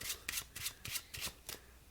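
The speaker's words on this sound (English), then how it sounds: "I can actually give the deck one more shuffle" A deck of playing cards is shuffled in quick riffles, about six crisp fluttering bursts in a regular rhythm, close and fairly quiet, with no talk.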